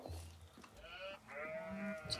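Sheep bleating in the Age of Empires 4 real-time strategy game, several short wavering bleats close by, with brief overlapping calls over faint game ambience.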